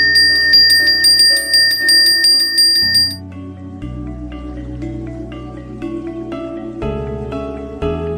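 Handmade Balinese genta bells from a Budaga workshop ringing, several bright metallic strikes with long shimmering overtones at first, then lower resonant tones sustaining and overlapping, close and fairly loud with no talk.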